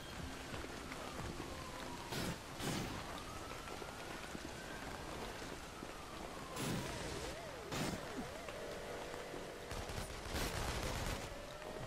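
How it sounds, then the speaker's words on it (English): Gunfire from the inFAMOUS Second Son video game, with sharp bursts of shots at scattered moments over a constant rain-like hiss, plus a few faint tonal game effects and no speech. "Okay, so I'm getting shot at."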